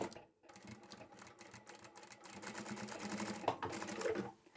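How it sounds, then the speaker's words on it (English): A sewing machine stitches a fabric pouch with a presser foot close to the edge, giving a soft, steady rapid mechanical chatter after a brief pause, faint and close with no voices. "I'm sewing as close as my presser foot will allow me to at this section here"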